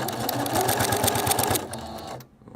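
A sewing machine back-stitches quilt squares together in a fast, rhythmic mechanical chatter, close and clear, stopping abruptly near the end.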